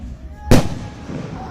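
A single firework bursts in the sky with a sharp loud boom, followed by a fading rumble and crackle, heard at a fireworks show in Kansas.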